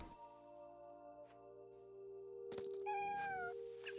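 Game cat from What Remains of Edith Finch gives a short rising-and-falling meow near the end, with steady ambient game hum and a brief burst just before it.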